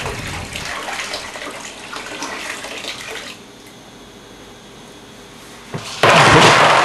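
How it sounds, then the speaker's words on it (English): Boiling water poured out of a jug while home brewing beer, a steady rushing gush that fades to a quieter trickle, then a louder splashing surge at the end, close by and with no speech. "So empty the boiling water out of your jug."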